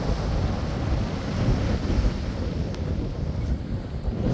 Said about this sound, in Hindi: आप देखें वो जो पानी की लहरें हैं